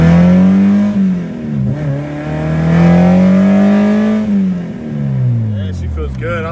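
Acura Integra with a K24a2 engine revving and accelerating: a loud, close engine note climbing steadily in pitch, easing briefly, then rising again before dropping off, with a brief rattle at the end.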